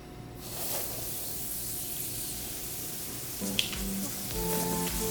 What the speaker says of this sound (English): now we're going to go ahead and start frying